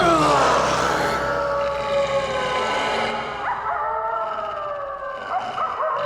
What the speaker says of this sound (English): There must have been 10 wolves surrounding him.